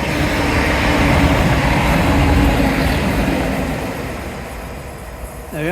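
A train rumbles past close by, loud and broadband at first, then gradually fading as it moves away, with no talk.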